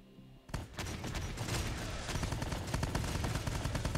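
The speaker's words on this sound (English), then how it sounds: "Gunfire at the integrator camp." Gunfire in the video game Terminator: Dark Fate – Defiance breaks out suddenly at an enemy camp and keeps going, dense rapid shots rattling in a continuous loud volley.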